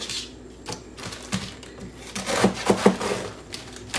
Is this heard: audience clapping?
no